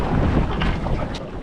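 Strong wind roars and buffets the microphone on a boat at sea off Busselton, a steady loud rush with no break and no voices.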